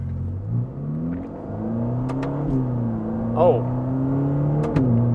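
A Ferrari Roma engine in race mode revs and shifts through gears with sharp, punchy changes, a steady mid-pitched drone rising between shifts; a voice talks briefly.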